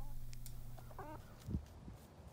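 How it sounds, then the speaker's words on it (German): A chicken clucks in a short meme clip, a few quiet clucks and squawks over low background hum, with one louder burst midway. "Ein Huhn auf Windeln? Oder auf Jeans?"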